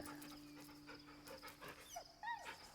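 A dog in the Baldur's Gate 3 video game pants in quick soft bursts, then gives a few rising whimpers and yips, faint and close, over a low steady hum.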